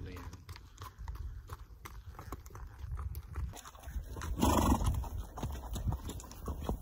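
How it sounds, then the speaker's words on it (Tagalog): Horse passing by on a summer countryside path in Kyrgyzstan, with a few soft hoof clip-clops under faint background voices and ambient noise, the steps briefly closer and louder before fading. "Tabi raw kayo at dadaan ng kabayo."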